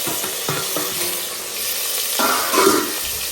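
Chicken frying in a pan, cooked with carrot and tomato, gives a moderate sizzle broken by a few clinks and stirring scrapes, with a brief wetter splash toward the end and no talk.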